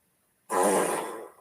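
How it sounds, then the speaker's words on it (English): One loud, close fart of about a second, a rumbling, buzzy blast that starts abruptly after silence and tapers off at the end. "That was a bad fart."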